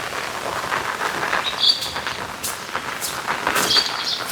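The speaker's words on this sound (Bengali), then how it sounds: "এই বৃষ্টি আসতেছে, এই থামতেছে" Rain falling on a rainy day, a soft steady hiss of drops on surfaces with faint bird chirps scattered over it, moderate and continuous.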